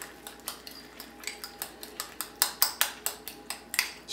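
Spoon repeatedly tapping and scraping against a dish while stirring sauce into eggs for a microwave omelette, a quick irregular run of light clinks, close and fairly quiet, with no talking.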